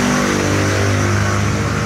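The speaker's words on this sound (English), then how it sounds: "Cars are passing occasionally," Cars pass on a nearby highway, a loud, close engine roar and tire rush that fills the whole moment steadily, with no voices.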